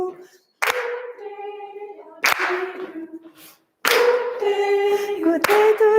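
People clapping hands in a rhythm exercise during a Kodály-method music training, loud sharp claps at irregular intervals, with sung tones ringing between and over them.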